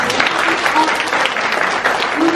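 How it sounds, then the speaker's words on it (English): Audience at a pastry and baking graduation ceremony claps loudly and continuously in a full, steady round of applause, with faint voices mixed into the crowd noise. "Can we give everyone a big round of applause?"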